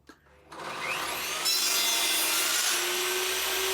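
A handsaw cuts a mitre in hardwood for a box, starting after a brief pause and then running as steady, continuous close rasping strokes that fill the rest of the clip.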